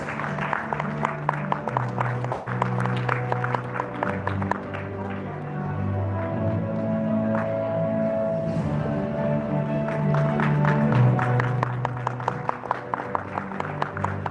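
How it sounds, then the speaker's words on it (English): An awards gala audience claps for a jury member over loud background music, with crisp hand claps most prominent at the start and end and steady crowd applause running beneath. "Let's put our hands together and give them a round of applause."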